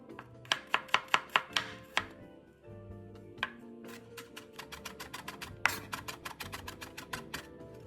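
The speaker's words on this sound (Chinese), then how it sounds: "小红葱30克，剁碎。" A knife minces about 30 grams of shallots on a board close by, with quick rhythmic chops in bursts, a short pause, then a longer run of rapid strokes, no talking.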